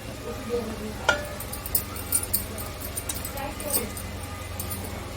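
Rice added and stirred into a hilsa biryani pot, with a light metallic knock and scattered spoon scrapes and clinks over a steady low background, a voice talking at moments.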